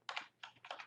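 A computer keyboard typing a web address: three short bursts of close key clatter separated by brief gaps, alone and fairly quiet.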